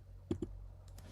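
Two quick, faint clicks of a computer keyboard as a formula is typed, followed by a couple of softer taps, close and otherwise quiet.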